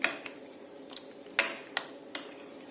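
Mustard oil being mixed into a yogurt mixture in a bowl, heard as a few sparse, light clinks of a utensil against the bowl, fairly quiet with no talking.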